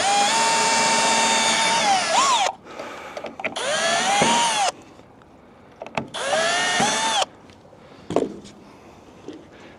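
A power drill whirs loudly in three separate runs of about two seconds each, pre-drilling pilot holes for deck railing, with short pauses and knocks between bursts.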